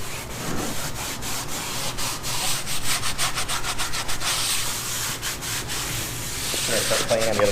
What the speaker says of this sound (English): We're going to use a stiff bristled brush on the tires